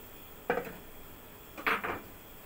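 A mixing bowl is picked up and set down in a kitchen with two short clattering knocks of dishware about a second apart. Faint room noise fills the gaps between them.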